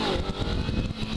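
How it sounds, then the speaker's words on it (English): A 2013 Kawasaki Ninja 300 revs hard as its rear tire spins during a sitdown wheelie launch, a loud, close, steady engine roar with rough low rumble and no pause across the short burst. "Tire spin."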